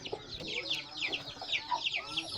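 A brood of about fifteen young chicks cheeps in rapid, high chirps alongside soft clucking from nearby fowl, a dense, continuous chatter recorded close up.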